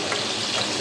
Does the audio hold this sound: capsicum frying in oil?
yes